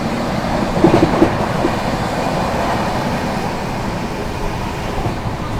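New Delhi–Ranchi Garib Rath Express passing close by, a loud, heavy continuous rumble of wheels with brief rattling clatter near the start.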